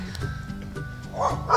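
A dog in snow gives a short yip and bark amid low rumbling, with a few brief close barks near the end.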